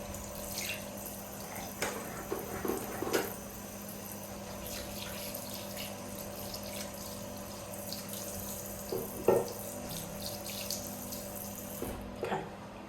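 A tap runs into a sink while hands are washed with foam soap, a steady close water stream with scattered splashes and rubbing sounds, fairly quiet, until the water cuts off near the end.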